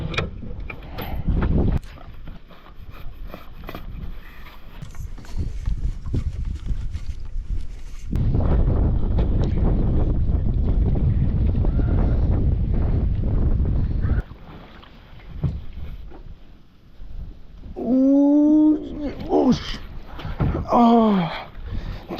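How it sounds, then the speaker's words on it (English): Strong gusting wind buffets a fishing boat out on Pyramid Lake, California, a loud broadband roar swelling and easing in long waves, with brief electronic chirps from a fish finder near the end. "Yeah, it's kind of windy over here, so it's gonna be hard to see them."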